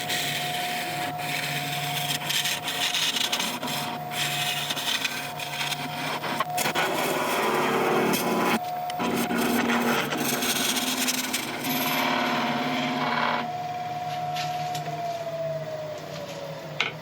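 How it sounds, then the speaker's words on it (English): Resin and wood blank on a lathe being worked with a carbide tool and a gouge, giving a steady close scraping, rasping cut that runs continuously with a faint high whine throughout. "I'll start feathering these two in together. So it's going to be a bit of carbide work and a bit of gouge work"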